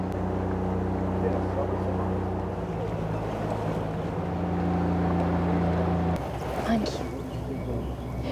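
A steady motor drone from a boat cruising the Kinabatangan River in Malaysia, with wind rushing across the microphone; the engine tone shifts near the end.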